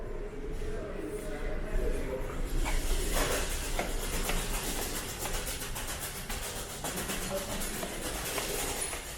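Rumbling, hissing noise of a subway train at Davisville station in Toronto, with steady roar and clattering, echoing in the underground station space.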